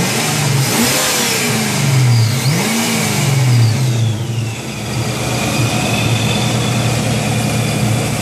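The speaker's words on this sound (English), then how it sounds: "love that supercharger sound" A ProCharger-supercharged Mystic Cobra car engine revs hard and steadily close by, its pitch rising and falling through repeated throttle blips, with a high supercharger whine over the roar.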